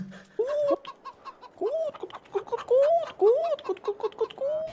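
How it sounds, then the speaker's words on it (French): A chicken clucks in a video game, a run of short rising and falling clucks and squawks, fairly close, with brief bits of voice mixed among them. "non, c'est un poulet oh. C'est une poule"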